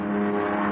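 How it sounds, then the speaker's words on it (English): A car engine hums steadily as the vehicle crawls down a driveway into rain and darkness, a short, even motor drone in an old radio drama sound effect. "I watched the car crawl down the driveway into the rain and the darkness"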